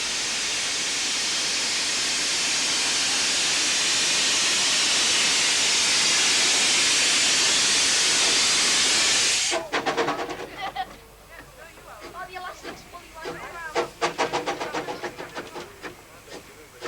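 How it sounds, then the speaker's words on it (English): A Hunslet quarry saddle tank steam locomotive leaves Bala Station with a train bound for Llanarwchlyn, a loud continuous hiss of steam giving way to sharp rhythmic exhaust chuffs as it pulls away. "At Bala Station, we see another of the ubiquitous De Norwich Quarry Hunslet tanks departing with the train"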